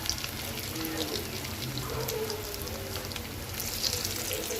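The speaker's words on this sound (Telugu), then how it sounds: "ఇలా వేగుతూ ఉన్నప్పుడు గోల్డెన్ కలర్లో వచ్చినప్పుడు మాత్రమే" Cowpea fritters (bobbarla punukulu) frying in hot oil over a medium flame, a steady close hiss and crackle of bubbling oil running without a break, fairly quiet, with no talking.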